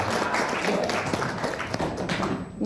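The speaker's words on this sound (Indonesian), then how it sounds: "Tepuk tangan buat Pak Jokowi semua." A seated audience breaks into dense, sustained clapping at a seminar in Indonesia. The applause fills the room and stays fairly even before tapering off at the end.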